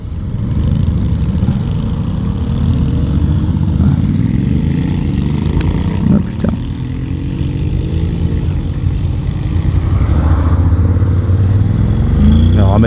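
Honda Forza 750 DCT scooter engine held at full throttle while riding: loud, sustained engine roar with steady wind rumble throughout, close and continuous, with a rider's voice faintly under it.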